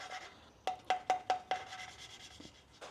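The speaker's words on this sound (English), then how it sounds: "this is what is known as lapping in the valve" An engine valve being lapped into its seat with grinding paste on an old Mini, a quiet rub followed by a run of five short, sharp scraping strokes, then faint further rubbing.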